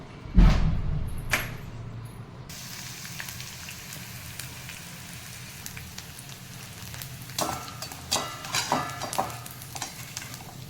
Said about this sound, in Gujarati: એટલે ફટાફટ એમાં ગુંદ ને આ બધા જે ડ્રાયફ્રૂટ છે ને એ ફ્રાય થઈ જાય